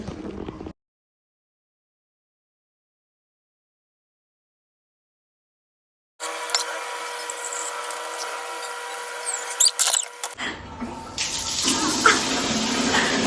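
Tap water runs steadily into a sink or tub at home, a continuous rushing wash that starts after a long silence and carries on alone to the end, shifting in tone partway through.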